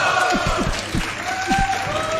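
Crowd at a Summer Games Done Quick speedrun event cheers and applauds as a run of Remnants of Naezith starts, a dense steady roar of clapping and voices over a short stretch with rhythmic low thumps throughout.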